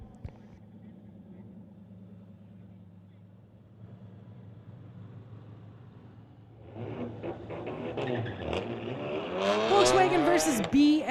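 Street-legal race cars, a Volkswagen battling a BMW on a circuit, hum along low and steady at first, then roar louder and closer as engines rev and pass, with a commentator talking throughout.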